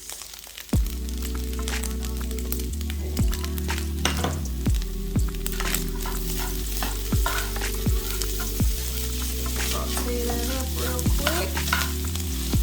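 Onions fry in a pan while being stirred, with a steady loud sizzle and a low hum under irregular knocks and scrapes of the utensil against the pan.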